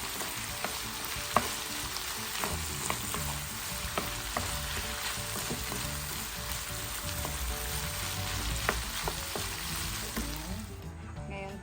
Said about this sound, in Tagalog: Ngayon, prito naman tayo ng karne.